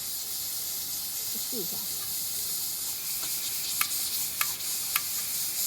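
A new portable gas stove, being lit on windy high-altitude grassland in Tibet, gives a steady broad hiss that fails to catch, with a few sharp igniter clicks near the end and a brief spoken phrase partway through.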